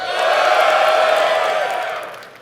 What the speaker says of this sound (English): So, if you like Chambers as Eric, can you cheer?